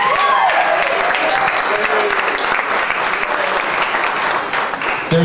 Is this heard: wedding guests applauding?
yes